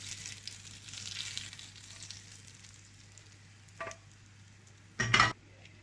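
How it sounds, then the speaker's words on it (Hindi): A steady background sizzle of hot oil, with a brief crackling burst near the end as spices are tempered in the pan for sour chickpeas (khatay chanay); no one speaks. "अब इसके अंदर तड़का लगाएंगे।"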